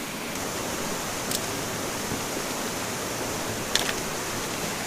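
Waterfall at Sligachan producing a steady, broadband rushing roar that stays constant throughout, heard alone with no voices.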